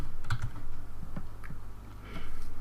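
Brisk typing on a computer keyboard, a short run of close, light key clicks tapped out in uneven bursts over a faint steady hum.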